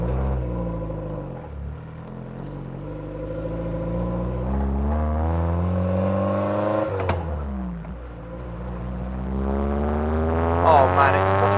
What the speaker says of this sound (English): This car is so quiet, I have put a mic on the exhaust.